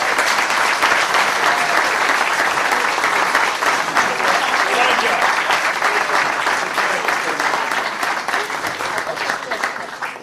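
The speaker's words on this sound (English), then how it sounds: "Nice round of applause." An audience at a local community event claps in steady, dense applause that fills the whole stretch, loud and sustained before easing slightly near the end.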